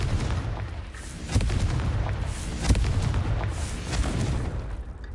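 A Confringo blasting spell from a Harry Potter video game goes off as several loud booming bursts over a dense rumbling game soundscape, and a spoken incantation is heard.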